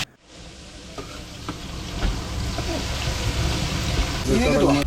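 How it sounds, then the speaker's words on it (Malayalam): Steady frying sizzle of onions with curry leaves, green chilies, ginger and garlic in a hot pan, with occasional stirring scrapes and clinks, continuous and close, slightly louder toward the end. "സവാളയും വേപ്പിലയും പച്ചമുളകും ഇഞ്ചിയും വെളുത്തുള്ളിയും എല്ലാം ഇട്ടിട്ടൊന്ന് ചെറുതായിട്ട് വഴറ്റിയെടുക്കേണ്ട"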